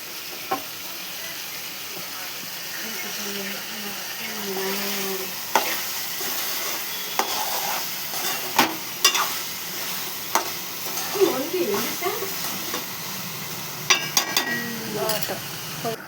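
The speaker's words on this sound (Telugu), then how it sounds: "వాటర్ ఇట్లా ఉడకాలి." A pot of chicken pieces with chili powder, mint, coriander and water bubbles and sizzles steadily on the stove, a continuous low hiss broken by occasional clinks and stirring knocks, with faint voices at times.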